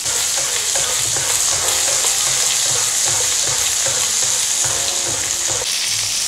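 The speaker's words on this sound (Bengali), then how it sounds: "আমরা এখন সাইডটা সুন্দর করে ভেজে নেব" Beef steak fries in a pan with a steady, loud sizzle and crackle throughout, broken by occasional clinks and scraping.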